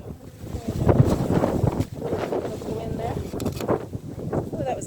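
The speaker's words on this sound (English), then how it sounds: "Oh, that was a big gust of wind." A strong gust of wind buffets the microphone beside an open beehive, rumbling and swelling in uneven bursts while someone speaks over it.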